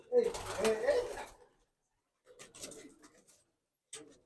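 Pulsar breed pigeons coo softly in a loft, with low murmuring calls heard under a man's speech and in quieter gaps afterward.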